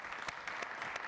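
Brief, faint scattered clapping from a city council meeting audience, a handful of distinct claps standing out over a thin wash of room noise.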